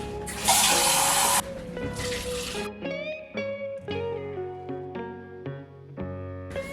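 A can of water is poured into a graham cracker pie filling mixture of egg yolks and evaporated milk, two bright splashing bursts followed by ringing clinks and a voice talking close by.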